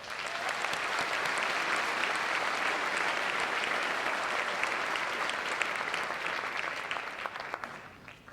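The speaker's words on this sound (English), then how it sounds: "Please give them a round of applause." Sustained applause fills a graduation commencement ceremony, a dense, even wash of many hands clapping at moderate distance for several seconds.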